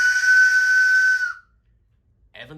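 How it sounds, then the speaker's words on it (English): A single sustained, high-pitched steam whistle sounds clearly for over a second, then cuts off into silence before a brief faint noise. "Evans the song listened to Ivor's whistle."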